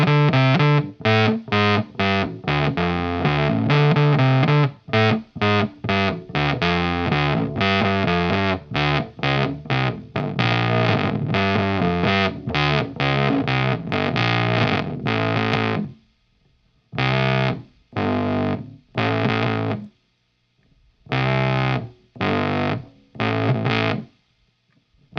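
Bass guitar through a 1962 Maestro Fuzz-Tone FZ-1 pedal plays a loud, heavily distorted riff, first in a dense run of notes, then in shorter bursts separated by silences.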